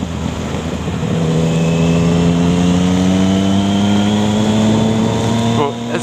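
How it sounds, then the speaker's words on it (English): The engine of a 2015 Yamaha MT-09 Tracer (FJ-09) with an Akrapovic titanium exhaust drones steadily as it rises gently in pitch while riding, loud and close over constant wind rush, then briefly drops off near the end. "just try it out, try and get the noise of the exhaust."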